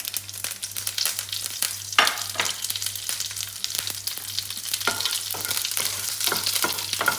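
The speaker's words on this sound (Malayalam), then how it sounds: "നമുക്ക് എടുത്ത് വെച്ചിരിക്കുന്ന വറ്റൽമുളകും ഈ കറിവേപ്പിലും കൂടി ഇട്ട് കൊടുക്കാം" Dried red chillies and curry leaves hit hot oil with mustard seeds as a tempering for Kerala-style beetroot pachadi, a steady crackling sizzle with sharp spitting pops throughout, close and without talk.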